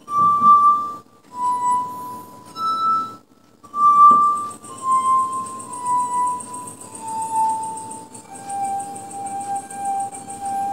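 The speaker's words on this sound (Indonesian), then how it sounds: "membuat aransemen musik dengan menggunakan gelas atau yang sering dikenal dengan istilah glass harp" A glass harp of water-filled drinking glasses plays clear, ringing sustained tones, one after another in a slow melody, each pitch stepping slightly, with short clinks between notes and no talk.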